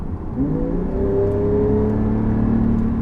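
A 2018 Porsche 911 Targa 4 GTS engine revs up with a loud, droning exhaust note that rises and holds, close and unbroken.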